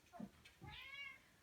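A cat gives a single short meow with a rising, wavering tone, quiet and close, after a brief murmur of a voice indoors.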